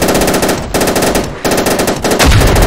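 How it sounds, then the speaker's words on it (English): Rapid, loud automatic gunfire from the World War II shooter game Easy Red 2 rattles in continuous bursts, with two brief gaps, close and dominant, no one talking. "I'm gonna keep firing at that location"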